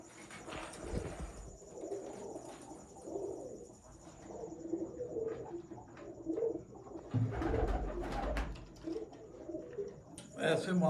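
Breeder pigeons coo softly and repeatedly in the background while someone talks over them.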